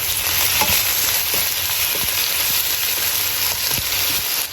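Bok choy stir fry hissing loudly in a hot pan, a dense continuous sizzle broken by irregular knocks and scrapes as it is tossed and stirred.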